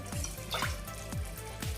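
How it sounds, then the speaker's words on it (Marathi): Half a small bowl of water added to a pressure cooker holding cooked urad dal for Satara-style ghut, a quiet liquid trickle with several soft knocks or stirs, no voices. "मी अर्धी वाटी पाणी घातलं आहे"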